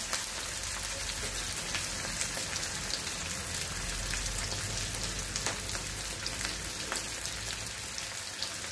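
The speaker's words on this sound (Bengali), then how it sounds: "পেঁয়াজটা হয়ে গেছে, তেলটা পুরো দিয়ে দিলাম। এবারে এটা আমি ভাজবো।" Onions fry in plenty of oil in a pan, giving a steady, soft hiss and crackle that continues evenly without talk.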